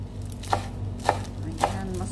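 Three crisp knife chops through fresh ginger on a cutting board, spaced about half a second apart, quiet and close, while vegetables are prepared for a salad.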